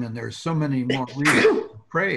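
A single sharp sneeze bursts out mid-conversation in a church Bible class, sandwiched between stretches of a man's speech, loud and close.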